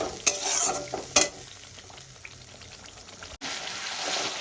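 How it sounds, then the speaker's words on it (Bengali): Spice paste (masala) being stir-fried in oil in a pan for a catla fish head curry with wild yam, a steady close sizzle with scraping stirs and two sharp spatula knocks early on. "এবার আমি ভালো করে কষাতে থাকি।"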